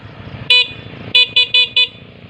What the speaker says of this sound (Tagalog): Loud horn.